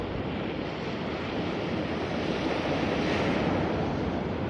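Surf washes continuously onto the beach at Hopton on Sea, a broad, steady roar of breaking waves mixed with wind buffeting the microphone, with no voices.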